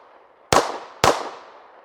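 Two sharp, loud handgun shots fired about half a second apart, each with a bright crack and a long ringing outdoor decay, with no talking.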